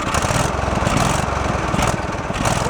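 A Craftsman lawn tractor engine revs hard and loud, a dense, steady roar with slight wavering throughout, close by with no talk over it.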